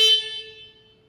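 A single short horn blast from a Solis E Series tractor, a bright steady tone heard up close that fades over about a second.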